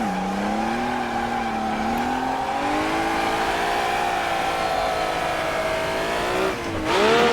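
Engine of a 1950s F1-style race car in the Automobilista sim racing game, a steady loud high-revving drone held at near-constant pitch, dipping briefly as the revs drop before climbing again.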